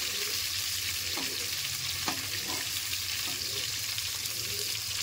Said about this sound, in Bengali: পটলগুলো ভাজার সময় হাই ফ্লেমে রেখে ভাজতে হবে, লো ফ্লেমে দিলে হবে না।